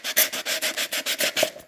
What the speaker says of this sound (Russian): Край можно подровнять наждачной бумагой.